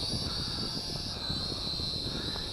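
A JDTOYS JD-10HW WiFi FPV toy drone spins up for takeoff, its small propellers making a steady, high, whining buzz that stays continuous and fairly close throughout.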